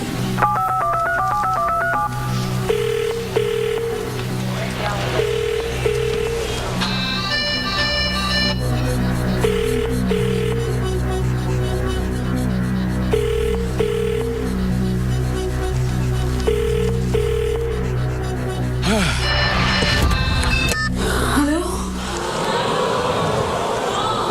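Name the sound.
telephone being dialed and ringing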